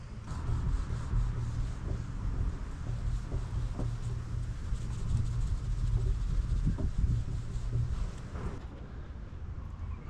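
A cloth soaked in lacquer thinner wipes across a Jeep Wrangler's body surface, giving soft, steady rubbing strokes close up with faint background hiss.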